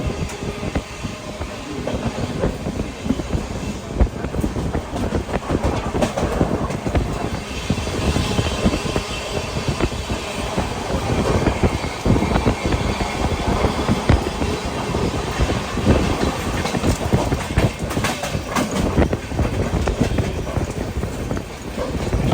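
A train rumbles along continuously and loudly, wheels clattering rhythmically over the rails, heard from inside a sleeper-class carriage of the Gujarat Mail near Mahim Junction, Mumbai.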